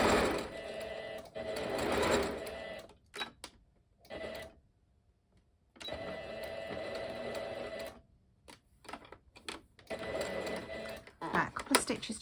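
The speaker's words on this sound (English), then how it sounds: "stitches to reinforce the sewing so it doesn't come undone when you're turning" A sewing machine stitches the seam of a scrappy fabric needle pouch in several quick bursts of rapid mechanical whirring, separated by pauses, with brief backstitch runs near the end.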